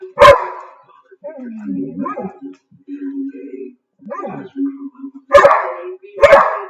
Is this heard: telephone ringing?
no